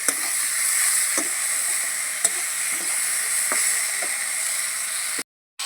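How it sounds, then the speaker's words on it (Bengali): Chopped spinach greens with green chillies sizzle and fry in a pan, a steady close hiss broken by a few soft stirring knocks, with no voices. "শাকটা তো এখন ভালো করে নেড়ে চেড়ে নেবো"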